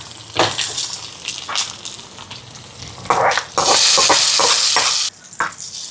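Curry stirred in a pot after mustard seeds, curry leaves and coriander go in, with scraping stir strokes over a steady sizzle and a loud burst of frying hiss midway.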